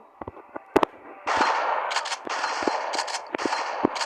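A few sharp gunshots crack in a knockoff GTA video game, followed by a sustained loud noisy rattle with scattered impact pops, with no voices.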